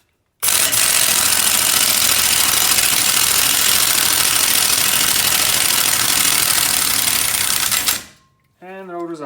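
A power tool tightens a bolt during a disc brake replacement, a loud continuous broadband mechanical whir running steadily for about eight seconds before stopping abruptly, followed by a brief voice.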